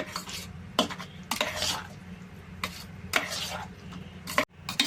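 Raw onion pieces are mixed into gongura chutney with a spoon, giving a string of short scraping and clinking strokes against the bowl in an irregular rhythm, close by and with no one speaking.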